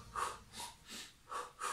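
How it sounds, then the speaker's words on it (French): A runner breathing in a two-in, two-out rhythm, five close, audible breath pulses with a steady pattern and no talking. "je suis en rythme 2-2, donc c'est-à-dire que j'inspire deux fois et j'expire deux fois"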